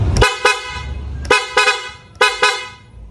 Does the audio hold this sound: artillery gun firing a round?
no